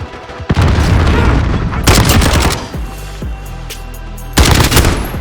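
In the shooter game Call of Duty: Modern Warfare, loud bursts of rapid gunfire alternate with heavy booming grenade blasts, close and dense, with a low rumble trailing between volleys.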